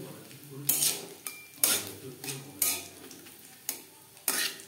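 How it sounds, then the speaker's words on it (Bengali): Bay leaf, three or four dried red chillies and whole cumin sputter in hot refined oil, making sharp crackling bursts roughly every second over a faint background sizzle, with utensil clinks. "ফোড়নে দিয়ে দেব তেজপাতা, 3-4টে শুকনো লঙ্কা, গোটা জিরে।"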